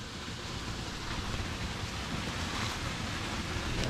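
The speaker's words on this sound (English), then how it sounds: "Look at this waterfall." Waterfall in a Scottish forest, near the remains of an abandoned mansion: a steady, dense rush of falling water fills the whole stretch at a constant loud level, with no voices.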